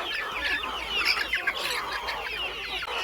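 Desi country chickens foraging on a farm, with a rooster among them, cluck and call repeatedly in short, overlapping bursts, close and fairly loud over a quiet background.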